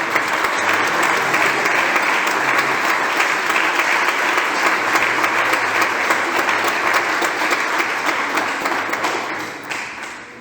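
A church congregation applauds steadily and loudly in a dense wash of clapping that holds for about nine seconds, then thins and fades at the end.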